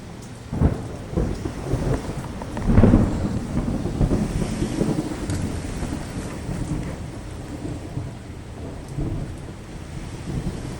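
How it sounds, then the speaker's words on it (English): A violent thunderstorm lashes Positano on Italy's Amalfi Coast: steady heavy rain roars throughout, and a deep rolling thunder rumble swells early on, loud and close, with no voices. "Positano was hit by a storm whose violence rivaled few others I'd lived through."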